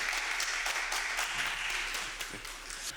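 A short burst of applause and clapping in a studio conversation about the Honda GB350C motorcycle, a steady rattle of hands with faint background murmur, fairly close and lasting about three seconds.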